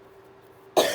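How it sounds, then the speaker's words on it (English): A single sharp cough bursts out near the end, close and loud, after a quiet stretch with a faint steady hum. "I hope you can hang with me through the coughing."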